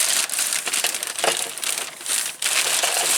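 Boating safety gear such as a tow rope and an old rusty knife stuffed into a waterproof bag, giving a close, continuous crinkling and rustling of plastic with brief crunchy bursts and no talking.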